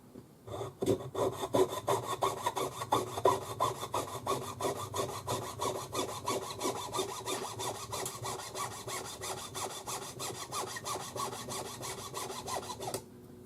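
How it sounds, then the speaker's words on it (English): A dull saw cuts through jewellery wire clamped in a ring clamp while a heart pendant is made, giving fast, even back-and-forth rasping strokes that continue steadily for over twelve seconds, close up and alone. "Dull saw."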